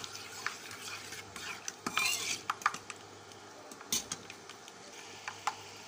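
Rice and nuts fry in a pot under a soft background hiss, with repeated close scrapes and clinks of a spoon stirring against the metal, the strokes coming in irregular bursts.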